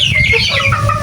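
Chickens clucking on a farm, a steady stream of close, overlapping calls from several birds with wind noise underneath.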